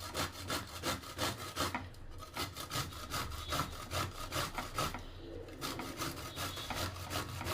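Ridge gourd is rubbed against a kitchen grater in quick, rhythmic rasping strokes, each scrape short and scratchy, repeating steadily and faintly at close range with brief pauses.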